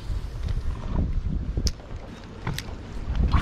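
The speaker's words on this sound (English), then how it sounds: "This wind is blowing" Wind gusts across a lake around a bass fishing boat, a rough, continuous buffeting rumble on the microphone with a few light knocks and no talk.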